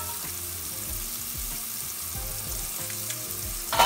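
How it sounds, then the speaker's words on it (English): Onions sautéing in oil left from frying mahi mahi, giving a continuous close hiss of frying with soft stirring scrapes and a louder clatter at the very end. "Saute the onions in the same oil, which all this flavoring from the fish will give it a nice taste to it"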